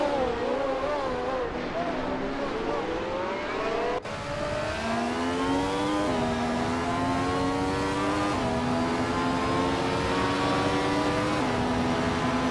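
Several 1975 Hill GH1 Formula One cars race in a video game at the Red Bull Ring, their high engines whining steadily and loudly, pitch climbing and dropping through gear shifts as they accelerate out of corners.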